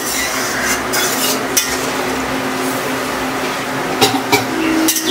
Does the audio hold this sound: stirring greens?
yes